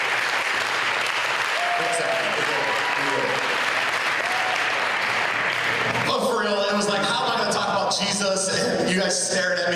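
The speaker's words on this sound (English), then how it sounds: "And then you guys can slow clap me." A party audience claps steadily and densely for about six seconds, then the clapping gives way to a mix of cheers and voices. Nothing about the claps suggests a deliberate slow rhythm.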